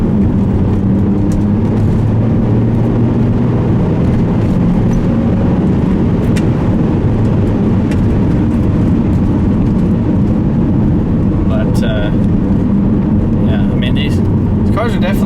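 A Saab 9-3 Aero wagon's engine pulls steadily at about 3,000 RPM in third gear, a continuous loud drone with road noise filling the cabin, and someone talks over it.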